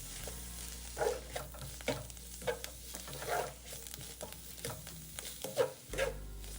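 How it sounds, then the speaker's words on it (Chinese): Minced pork stir-fried in a wok, with close, irregular scraping strokes of a spatula over a steady sizzle, the stirring coming in bursts roughly every second. "炒至肉末色泽转白后，就可以开始调味了"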